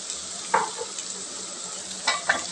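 Ivy gourd leaves with egg stir-fried in a pan: steady sizzle punctuated by a couple of quick spatula scrapes, close and clear with no talking.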